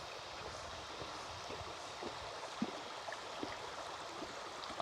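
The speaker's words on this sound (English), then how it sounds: "Ah, the sound of the water, guys." A clear, shallow mountain stream near a bamboo bridge in a remote Laotian village flows steadily, a soft, even rushing wash with faint splashes, heard alone at low volume with light wind.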